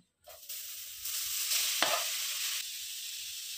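Coconut filling for modak cooking in a pan, a steady sizzle with stirring scrapes that starts abruptly and holds at even loudness, close up with no talking.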